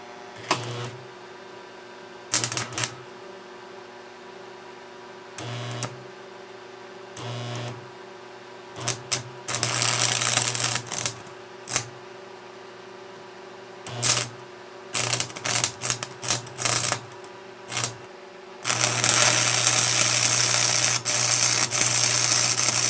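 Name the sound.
cheap stick welder arc welding, turned all the way up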